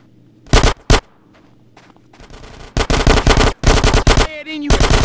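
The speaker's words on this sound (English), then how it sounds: "Get some suppressing fire in there!" Gunfire in Grand Theft Auto: San Andreas, a couple of loud single shots followed by sustained rapid automatic bursts, close and harsh, with brief gaps and faint game voices underneath.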